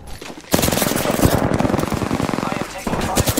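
Rapid automatic gunfire in a battle royale video game, loud and continuous bursts close by with a brief quiet gap, under a player's voice calling out.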